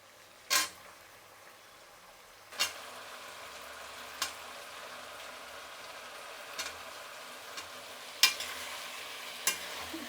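Brinjal pieces frying in a pan are stirred now and then, a soft frying hiss underneath sharp scraping strokes that come every couple of seconds.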